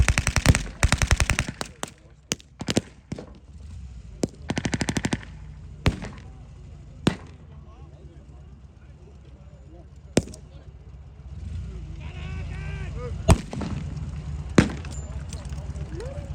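Rapid machine-gun bursts and single rifle shots from a WWII-style German and Russian battle reenactment at a Yorkshire wartime event, dense volleys early then scattered distant cracks over outdoor crowd noise.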